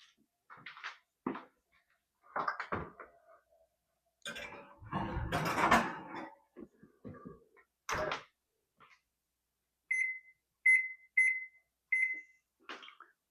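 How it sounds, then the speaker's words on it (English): An oven timer is set for a corn casserole: scattered clunks and rustles come first, then a series of four or five short, clear electronic beeps close by. "So I set the timer for 15 minutes."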